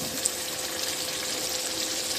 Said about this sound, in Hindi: अब हम इसमें 1 कप के करीब पानी डालेंगे